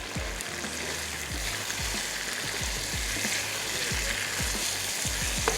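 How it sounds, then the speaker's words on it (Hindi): Onions sautéing in olive pomace oil in a karahi for Shinwari karahi give a steady, close, broadband sizzle, with low scraping stirs repeating throughout and no talking. "हल्का सा प्याज को सौते करेंगे"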